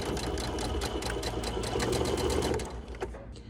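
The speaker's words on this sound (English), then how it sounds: "I'm just gonna clip those together and sew with a straight stitch" A sewing machine runs a straight stitch through dress fabric, a fast, even, close mechanical chatter that slows and stops near the end.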